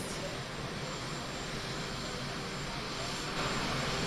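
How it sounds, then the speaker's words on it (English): Aircraft engine roar from an airplane arriving at an airport in Queens for a papal visit, a loud, steady, broadband rumble that holds for several seconds and swells slightly near the end. "Now this will be extremely loud because we'll have the airplane and the helicopters."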